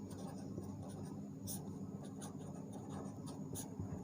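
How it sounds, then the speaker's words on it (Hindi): Marker or chalk strokes on a board during a Sanskrit grammar lesson, short repeated scratchy strokes at close range over a steady low hum. "देखिए यहाँ पर जैसे लिखेंगे हम इसको"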